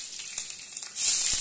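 Panch phoron, bay leaf and green chili frying in hot oil in a pan, a steady close sizzle that grows louder and brighter near the end, with no voices.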